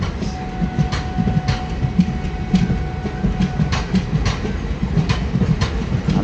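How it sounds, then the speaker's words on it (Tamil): Wheels of an ICF sleeper coach on the Ernad Express beat out a loud, steady clickety-clack, regular rail-joint clicks repeating over the rumble of the moving train. "அந்த ஐசிஎஃப் அந்த சவுண்ட் நல்லா கேட்குது, தட்டக்கு தட்டக்கு தட்டக்கு தட்டக்குன்ட்டு"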